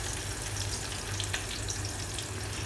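Onions sizzling steadily in a pan for Mumbai-style missal pav, softening to light brown before ginger garlic paste goes in; a continuous close crackle and hiss with no talk.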